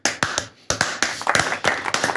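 A small studio audience claps for a guest on a German football talk show, a brisk patter of close hand claps with uneven rhythm.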